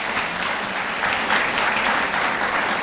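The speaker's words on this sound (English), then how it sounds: "How about a round of applause for that?" Audience applause at a scholarship luncheon, steady and dense clapping from a large room filling the whole moment, a low murmur underneath.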